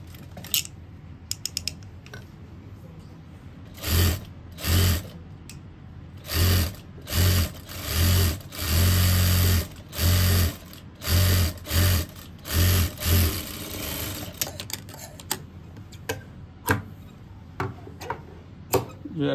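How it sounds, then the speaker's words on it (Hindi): A sewing machine stitches a shirt collar in a run of close, loud whirring bursts, short ones first, then longer steady runs, then a scatter of brief clicks and taps as it stops. "इसकी सिलाई करेंगे"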